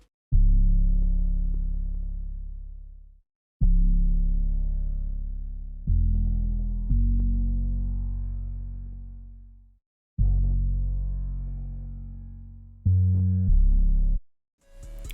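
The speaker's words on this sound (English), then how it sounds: "the last thing I added was this bass from Bloom 2 called Bass Caution" Deep synth bass from the Bloom 2 preset Bass Caution plays a trap loop of long sliding notes, each fading slowly before the next, with a few short stabs near the end and no talking.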